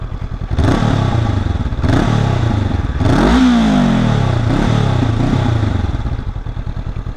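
A 2019 Honda CB500F motorcycle engine running close by, idling with a throbbing rumble and a couple of sharp throttle blips that rise and fall, heard alone without talking.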